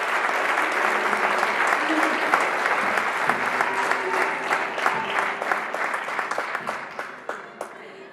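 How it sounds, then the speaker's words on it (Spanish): Loud, sustained applause from a large concert audience, dense clapping that thins out toward the end with a few scattered claps. "Un fuerte aplauso para él."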